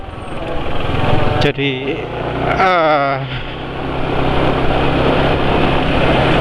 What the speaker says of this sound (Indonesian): Jadi seperti ini ya suara mesinnya ya. Jadi sudah lumayan kasar.